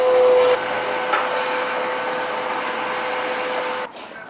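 A household vacuum cleaner runs steadily during home cleaning, a constant close whirring drone with a slight tonal whine that cuts off near the end.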